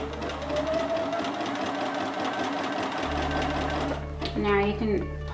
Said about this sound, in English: you're gonna feed it through your sewing machine, doing your zigzag stitch right up towards the open end